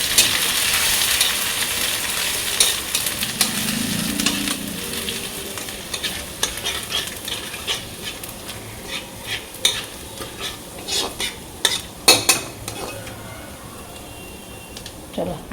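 Dried chili, radhuni and bay leaf hit hot oil with a bright sizzle at the start, which fades into softer frying and scattered clicks of stirring in the pan.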